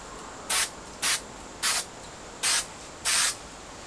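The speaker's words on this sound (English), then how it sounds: "So we're going to spray along the spars." Five short, loud bursts from a spray can or aerosol being applied along the spars and tip ribs of a model airplane frame, each hissing spray roughly half a second long with brief pauses between, close up and with no talk.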